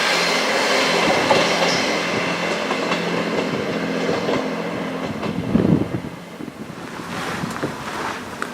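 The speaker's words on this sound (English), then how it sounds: "Carlisle train leaving Ribblehead." A Carlisle-bound train rumbles and clatters steadily as it pulls away from Ribblehead station on the Settle and Carlisle line, a loud continuous roar with rhythmic wheel clacks and some wind noise.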